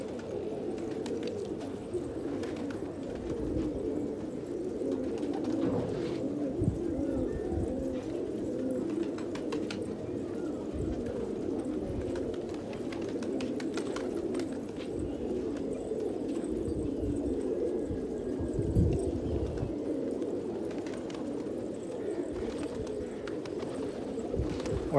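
Desi Gola pigeons cooing steadily in a low, murmuring chorus, with occasional wing flutters and scuffs, continuous and close by, no talking.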